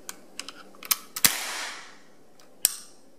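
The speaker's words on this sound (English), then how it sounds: "Now we're going to go ahead and fire the Stallion 4140." Nichols Stallion 4140 cap gun toy revolver being handled and fired, several small mechanical clicks followed by two sharp loud snaps with a brief hissing tail, close and without talk.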